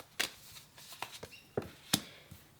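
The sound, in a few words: shuffling a deck of tarot cards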